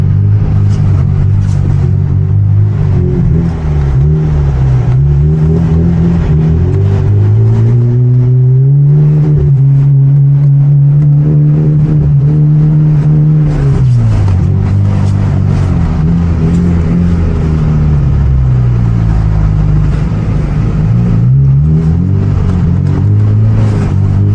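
A rear-wheel-drive coupe doing donuts in blizzard snow, its engine loud and close, revving continuously and rising and falling in pitch as the car spins.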